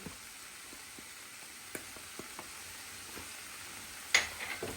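Onions, mushrooms, thyme, garlic, salt and pepper for a risotto sauté in a pan with a faint, steady sizzle, broken by a few light clicks and a sharper clatter near the end.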